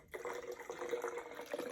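Hummingbird nectar fills a plastic feeder in a close, soft trickle, a gentle liquid burble rising in pitch as the vessel fills, steady for under two seconds with no talking over it.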